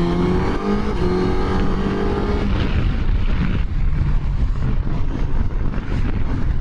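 Engine of a Suzuki GSX-S1000GX crossover motorcycle pulling hard on the road, a loud continuous roar with rising tone as it gains speed, then steady wind-laden drive, with no talking over it.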